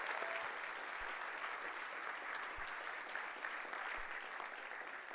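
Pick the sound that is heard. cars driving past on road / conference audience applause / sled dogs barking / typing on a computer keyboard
conference audience applause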